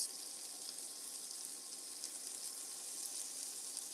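Meat with a fat cap sizzles in a hot pan, giving a steady, soft, hissing crackle that holds evenly throughout with no talking over it.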